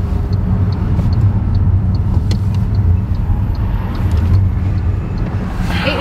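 Inside an MG5 Long Range electric car climbing a steep road uphill, a steady loud low rumble of road and tyre noise fills the cabin continuously, with no voices.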